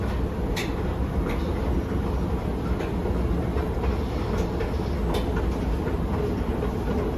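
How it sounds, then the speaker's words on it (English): Train rumbling at Grand Central Madison, the Long Island Rail Road station beneath New York City, with a steady loud low roar of rolling wagons and faint high squeals and clicks throughout. "Abdurrahman Adel, this is a train station"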